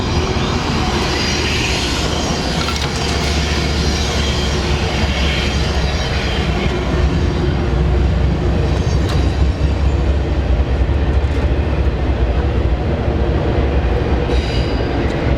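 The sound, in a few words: train passing by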